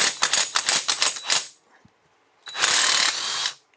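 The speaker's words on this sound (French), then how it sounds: "Donc une douille 27, la péteuse, on vérifie qu'elle est bien dans le bon sens. On met ça ici et on y va." Pneumatic impact wrench with a 27 mm socket loosening the clutch nut on a Honda CB500X motorcycle: a rapid hammering burst, a brief pause with a small clink, then a second sustained close, loud rattling run.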